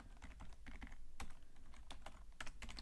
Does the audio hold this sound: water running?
no